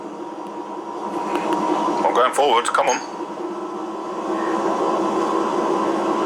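A heavy train begins to move uphill with a low, steady mechanical drone and a rising rumble. Someone speaks over it in the middle.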